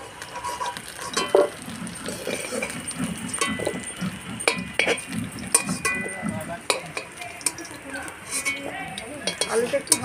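Turmeric-and-salt-coated potatoes fry in oil with a continuous close sizzle, punctuated by frequent stirring clinks and scrapes, and faint talk now and then.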